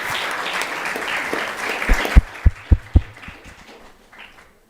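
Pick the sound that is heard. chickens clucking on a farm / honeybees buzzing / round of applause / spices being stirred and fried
round of applause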